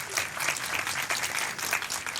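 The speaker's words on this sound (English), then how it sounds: "Give her a round of applause as she comes to the podium." Audience applause at a ribbon cutting and grand opening for a realty office in El Segundo, steady dense clapping from a crowd lasting the whole stretch, fairly close and even.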